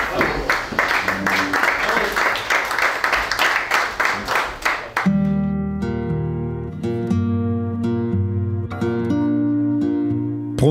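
A crowd claps in a fast, steady rhythm, loud and close, for about five seconds before the clapping gives way to music.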